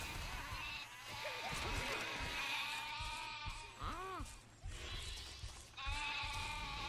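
Sheep in the video game Overlord bleat several times in quavering, wavering calls over a steady game background hum, moderately loud and close.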